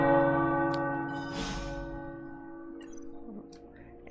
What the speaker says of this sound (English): And the tower bells.